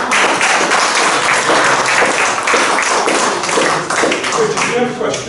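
An audience at a London magazine launch event claps in dense, sustained applause that stays loud and even throughout.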